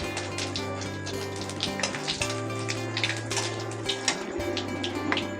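Cumin seeds, bay leaves and dried red chillies sizzle steadily in hot oil in a home kitchen pan, a loud continuous crackle with a low hum running underneath and no talking.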